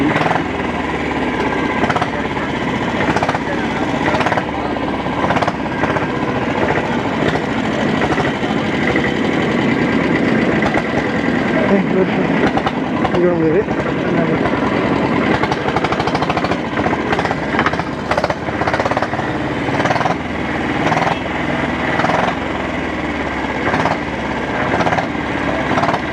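A vintage motorcycle engine runs at a large vintage bike event as the bike is parked, a loud, continuous rattling chug with a steady fast pulse, close up and alone with no talk.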